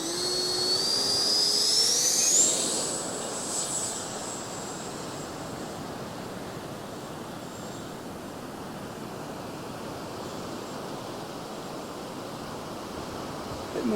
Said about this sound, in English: we'll see how this little jet, the 64mm jet, flies